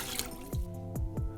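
Cold water poured into a ginger wine must, heard as a run of distinct drips and plops with falling pitch and a faint liquid trickle underneath, close and quiet.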